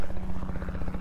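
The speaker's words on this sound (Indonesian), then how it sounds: "Ada helikopter no, lihat nggak?" A helicopter overhead gives a steady, low rhythmic rotor thrum, fairly loud and continuous, with no talk over it.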